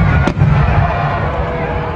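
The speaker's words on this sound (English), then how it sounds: "lighting the night skies with beautiful multicolored radiance of loud firecrackers" Firecrackers pop and crackle continuously in a dense, loud barrage, with a faint crowd murmuring underneath.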